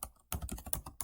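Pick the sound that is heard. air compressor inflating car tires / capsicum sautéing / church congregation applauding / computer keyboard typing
computer keyboard typing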